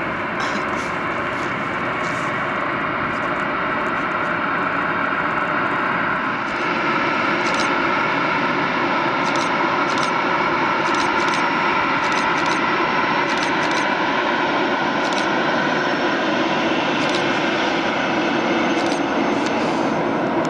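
A loud, continuous airplane engine roar from a landing plane at Oslo Gardermoen airport fills the whole stretch, a steady rumbling drone with faint higher whine, no talking heard.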